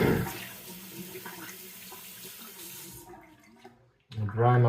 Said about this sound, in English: let me rinse my hand off here